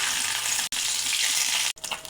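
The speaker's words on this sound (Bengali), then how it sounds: "এখন এটাকে মুসমুস করে ভেজে নেব।" Hilsa fish gills frying in soybean oil in a pan, a steady close hiss and sizzle that cuts out briefly twice, then resumes more unevenly.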